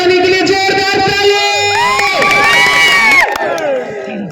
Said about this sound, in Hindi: युवा तरियानी के लिए जोरदार ताली।